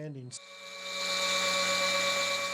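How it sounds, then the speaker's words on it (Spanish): A brief voice, then a high-pitched drill whines up and runs steadily at a constant pitch, close and fairly loud, boring into a stalagmite to extract a powder sample. "En primer lugar, se extrae una muestra de polvo con un taladro."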